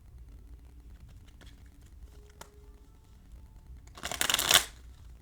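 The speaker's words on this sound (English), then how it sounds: "my cards are a little hard to shuffle right now" Stiff tarot cards riffled in one short, crisp burst of shuffling after a few faint handling clicks, close and fairly loud, no speech.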